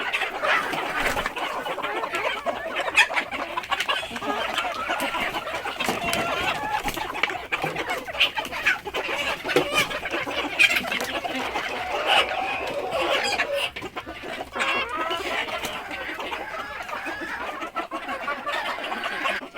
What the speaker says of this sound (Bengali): দেখুন আমার এখানে সব ডিমের মুরগি ডিমের মুরগিগুলো মার্শাল্লাহ সবাই খাচ্ছে